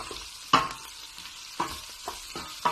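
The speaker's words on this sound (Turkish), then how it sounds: "Soğan ekledikten sonra biraz karıştırıyorum." Onions frying in a pan for Turkish tas kebab are stirred with a utensil, giving a soft steady sizzle broken by several sharp scrapes and clacks against the pan, alone with no talk.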